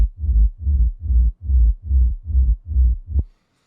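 A warped, time-stretched kick sample forms a deep rumble for a hardgroove techno track, eight swelling low thuds in a steady pulse, loud and close, ending in silence.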